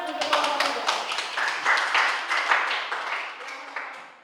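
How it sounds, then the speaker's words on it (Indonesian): A school class applauds the second group, a rhythmic run of many hands clapping at close range that swells in the middle and fades slightly toward the end. "kita berikan aplaus untuk kelompok kedua"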